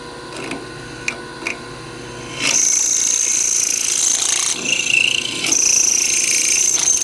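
A 1980s Jet drill press drills steel, a quiet idle motor hum with faint ticks jumping into a loud, high-pitched metallic whine and grind, briefly dipping once before resuming.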